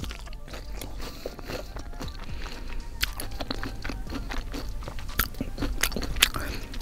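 Close, crunchy bites and wet chewing of a Taco Bell Mexican Pizza, continuous irregular mouth sounds with occasional sharper crunches, no talking.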